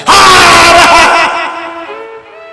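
A preacher at a Shiv Mahapuran katha imitates the loud shout of a holy man or sadhu: one long, very loud, strained vocal cry that gradually fades and wavers away. No other talking can be heard.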